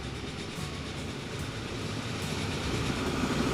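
Cargo trains run through a tunnel in the game Transport Fever 2, producing a steady, continuous rumbling rail noise with faint clattering that swells slightly toward the end, with no voices.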